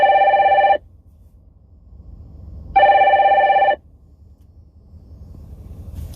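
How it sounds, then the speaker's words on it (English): A telephone rings loudly and close by with two electronic trilling bursts about two seconds apart, each lasting roughly a second, separated by quiet room noise and no talking. "I wasn't planning on my phone ringing"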